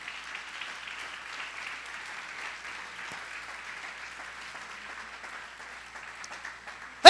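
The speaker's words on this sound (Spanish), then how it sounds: "Aplauda al Señor." Church congregation applauding during a sermon, a sustained, slightly distant wash of clapping that holds evenly before a sudden loud knock at the very end.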